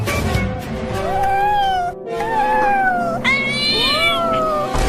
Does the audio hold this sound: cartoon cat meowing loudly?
yes